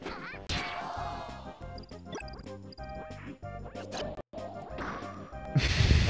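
Link's forward smash attacks in Super Smash Bros 64: loud, punchy whacks and crashes over busy game music, recurring through the clip.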